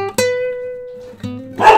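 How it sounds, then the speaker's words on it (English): A dog gives two close, loud barks, each followed by a sustained whining tone, then a short rougher yelp at the end, heard alone in a quiet indoor room. "This is my dog."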